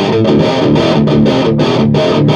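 Crunchy distorted electric guitar through a Behringer Ultra Metal UM300 pedal set to lower gain, playing a continuous chordal phrase with rhythmic strums, loud and close with no talking.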